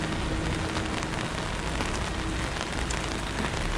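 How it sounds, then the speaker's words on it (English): Rain falls steadily on a street in Salerno, Italy, as a dense, loud, continuous hiss of drops spattering on pavement, with no voices. "And we cannot let the rain stop us."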